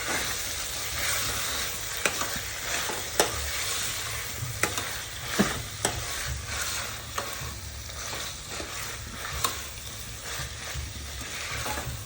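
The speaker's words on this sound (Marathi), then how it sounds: "आपण हे आलू आणि मटार टाकून घेऊया, छान याला फ्राय करायचं।" Potatoes and peas fry in a pan for aloo matar khichdi, a constant close sizzle broken by regular scraping clicks of a spatula stirring throughout, with no voices.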